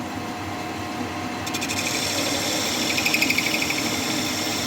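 A metal lathe cutting stainless steel with plenty of lube, a steady machine hum that thickens partway through into a harsh, grinding cut with rhythmic scraping, loud and close, no talk.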